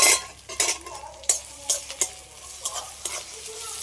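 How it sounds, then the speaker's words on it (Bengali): Onions lightly fried with chopped tomato just added, sizzling in a pan for a Bengali fish-head muri ghonto, with steady frying hiss broken by repeated scraping stirs of a utensil, close and fairly loud. "পেঁয়াজটা একটু হালকা করে ভেজে নিয়েছি, তারপরে দিয়ে দিচ্ছি টমেটো কুচি"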